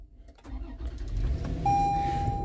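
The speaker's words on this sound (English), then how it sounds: "Classic V6 sound, that 4-liter that they've had in this for a while now" A 2024 Toyota 4Runner SR5's 4-liter V6 starts with a push-button start: a brief crank catches into a low, steady idle rumble close by, while a high in-cabin chime tone sounds over it.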